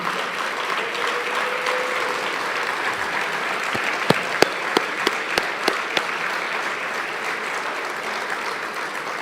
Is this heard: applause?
yes